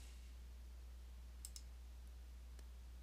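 A computer mouse gives two quick faint clicks close together, then one more soft click a moment later, over a quiet low hum.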